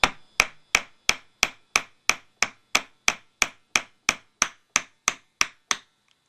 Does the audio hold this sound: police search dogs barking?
no